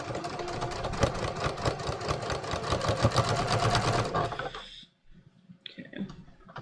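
A sewing machine stitches floral linen shorts at about a 3.5 stitch length: a rapid, even mechanical chatter of needle strokes up close for roughly four seconds, then it stops, leaving faint handling sounds.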